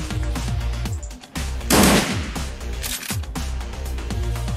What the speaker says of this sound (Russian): И просто выстрел.